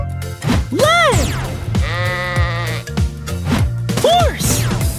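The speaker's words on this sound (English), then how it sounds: "Lamb." Cartoon-style lamb bleat in an animated children's production, a wavering bleat near the start and another near the end over a steady bouncy music bed, loud and close.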